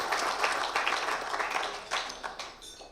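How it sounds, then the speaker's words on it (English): Applause for the awards committee at a PGA section presidents' dinner, a short round of moderate clapping from the room that swells and thins quickly, fading out by the end. "So just a quick round of applause for the awards committee."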